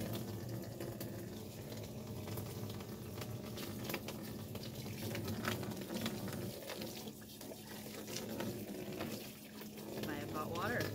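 Hot water running from a hose fed by a propane on-demand heater into a stock tank, a continuous splashing rush heard close, with a faint voice in the background.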